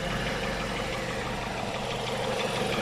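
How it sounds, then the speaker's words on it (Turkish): A car engine with a leaking exhaust manifold idling close by, with a steady rumble and a rapid ticking, puffing rattle running throughout. "egzoz manifoldumuzda kaçak var arkadaşlar"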